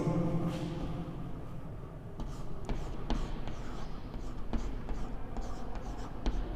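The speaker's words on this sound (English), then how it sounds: "After writing it, we will write notice." Pen scratching steadily across paper while writing out a school notice, a continuous close dry scraping with brief lifts and taps between strokes, no talking.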